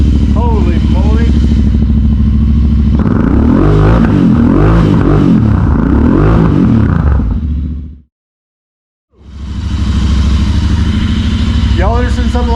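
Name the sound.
Royal Enfield Continental GT 650 motorcycle engine with ZARD exhaust pipes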